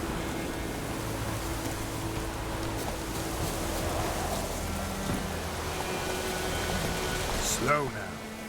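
Steady rainfall in The Witcher 3: Wild Hunt video game, a soft continuous hiss of rain in the background with a brief chiming effect near the end and no clear talk over it.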